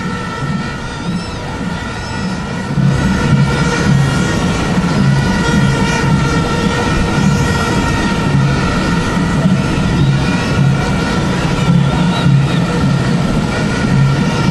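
Military aircraft fly over a national military parade in Mali, producing a loud, continuous broadband roar that swells after a few seconds and holds steady overhead.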